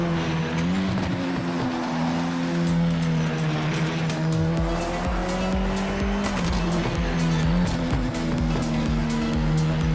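A race car in a VR racing game drones along with a steady high engine whine, its tires squealing and skidding through corners, loud and continuous for the whole stretch.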